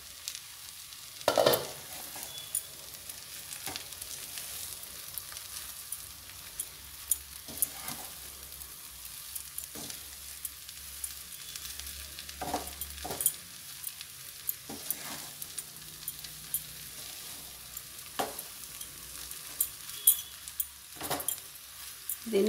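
Cluster beans dal curry cooks on a very low flame, a gentle frying sizzle broken by intermittent spoon scrapes and clinks against the pan as it is stirred now and then.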